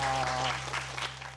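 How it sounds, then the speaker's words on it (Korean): Audience applause at a Korean TV talk show as a shoe designer is introduced, a dense wash of clapping that starts loud with a steady tone underneath and eases slightly over a moment. "박수 주십시오."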